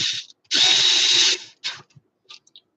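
A power drill drives new screws into an old amplifier case in several bursts: a short whir, then a long steady high-pitched run of nearly a second, followed by shorter pulses and brief clicks near the microphone.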